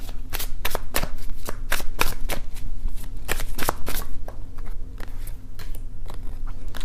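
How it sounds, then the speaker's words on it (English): Tarot cards are shuffled and pulled during a love tarot reading, giving a steady series of close, crisp riffling snaps and flicks over a low constant hum, with no speech. "let me just pull another card"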